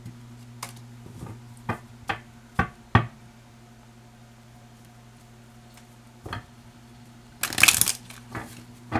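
Oracle and tarot cards are handled and shuffled during a reading, heard as sparse soft taps and knocks followed by a brief louder riffling burst near the end, against a faint steady hum.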